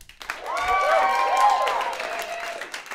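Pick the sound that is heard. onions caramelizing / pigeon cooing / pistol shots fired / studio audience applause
studio audience applause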